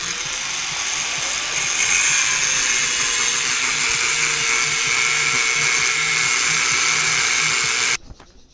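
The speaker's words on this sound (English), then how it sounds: "just cutting the rebar" A power tool grinds through steel rebar at a house construction site, a loud, steady, high whine that holds for about eight seconds and then cuts off abruptly.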